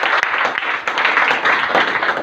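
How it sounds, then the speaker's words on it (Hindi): A crowd at a Hindi-language business gathering applauds a business system: dense, steady clapping that keeps going at an even level for the whole stretch, with no voices above it. "इस सिस्टम के लिए जबरदस्त तालियां।"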